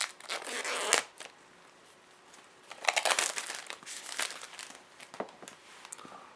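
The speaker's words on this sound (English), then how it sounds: "we should first remove the plastic" Plastic wrap is peeled and crinkled off the box of a Xiaomi Redmi Note 9 Pro phone in close, crackling bursts separated by short pauses, fairly quiet and with no talking.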